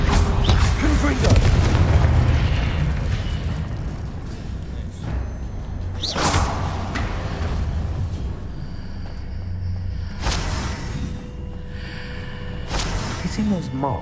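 Magic spells in Hogwarts Legacy fire off as deep booming blasts and impacts, several loud bursts spread across the clip, with a voice calling out spell names amid ambient game sound.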